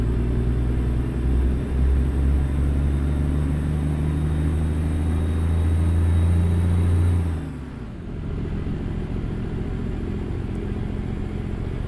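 A Freightliner FLD truck in American Truck Simulator pulls an 80,000-pound load. Its loud, steady diesel rumble drones on and then dips briefly at a gear change before resuming.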